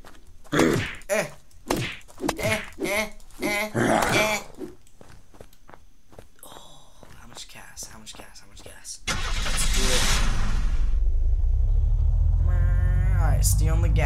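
Car in the video game Unturned starting and driving, a steady loud engine rumble that begins midway and holds to the end, after some thumps and game sounds, with a person talking over the early part.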